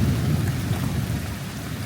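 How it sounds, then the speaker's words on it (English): An evening thunderstorm brings heavy, steady rain with a low rumble of thunder beneath it, loud and continuous throughout, with no one speaking. "And we've got a thunderstorm with lightning,"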